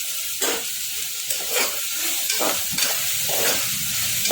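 Potatoes, peas and tomatoes fry in a pan for vegetable fada khichdi with a steady, loud sizzle and hiss. Four or five stirring scrapes surge through it at roughly one-second intervals.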